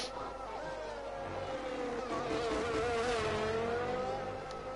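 An F1 22 race car in the video game runs through Sector 3 at Imola, its engine a steady high whine that rises and falls through the corners, heard onboard and continuous.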